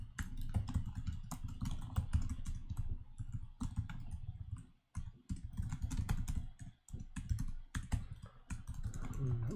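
Quick, uneven bursts of keystrokes clatter on a computer keyboard during a Codeforces programming contest, with brief pauses between runs of typing and no talking.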